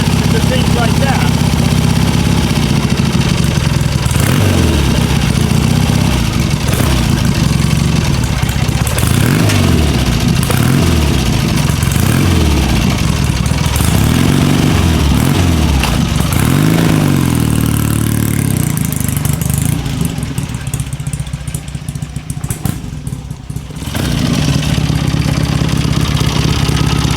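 A motorcycle engine, a 1977 Triumph Bonneville or a 1973 BMW R90/6 with a rebuilt engine, idles and revs repeatedly in rising and falling sweeps, loud and close, while someone talks over it.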